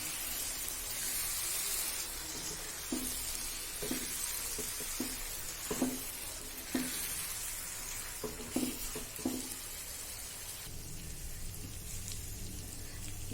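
Tomatoes stirred into bhuna gosht frying in a pot, a steady sizzle broken by a series of sharp scraping and clanking stirs from the utensil, close and fairly loud, with no talking.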